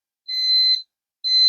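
Motion-sensor alarm at a small sari-sari store sounding as a person stands nearby, giving loud, piercing electronic beeps in steady pulses about half a second long, separated by short gaps of silence.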